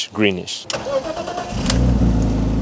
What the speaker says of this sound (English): Now I'm gonna turn on the car and let it idle for a bit.